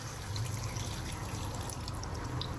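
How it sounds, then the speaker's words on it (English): A steady, close stream of water pouring into a pot of Korean braised chicken with vegetables and sauce, a continuous wash of liquid with faint splashing and no talking. "Now I'm gonna add some water to this"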